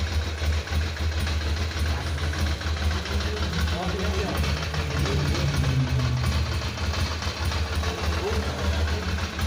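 Ducati motorcycle engine idling at a street motorcycle meet in Curitiba, a steady low rumble throughout with crowd noise around it.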